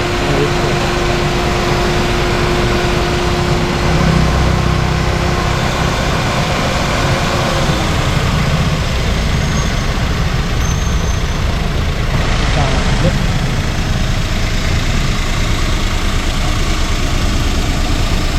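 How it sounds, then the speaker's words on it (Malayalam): A car engine idles steadily and loudly throughout, a constant low rumbling drone with no revving. "engine sound engine sound"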